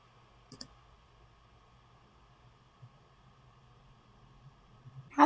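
A computer mouse clicks a software button: a couple of quick, light clicks near the start in an otherwise quiet room with faint hum.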